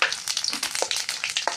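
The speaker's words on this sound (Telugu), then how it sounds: "కొద్దిగా ఆయిల్ వేస్తున్నాను. ఆయిల్ కింద ఎల్లిపాయలు వేద్దాం," Garlic and cumin seeds added to hot oil in a pan sizzle and crackle with rapid bright pops throughout, close and fairly loud.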